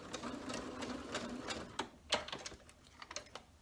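Sewing machine stitching a curved seam on a lotus quilt block, a close, quiet rapid rattle of needle strokes that slows and breaks into a few separate clicks near the end, with no talking.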